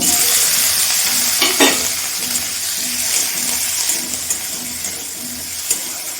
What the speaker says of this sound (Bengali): টমেটোটা নরম হওয়া পর্যন্ত আমি ভেজে নেব।